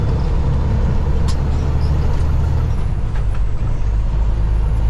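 A truck rumbles close by with a steady, heavy low drone throughout, and a brief air brake hiss sounds near the start. No one speaks.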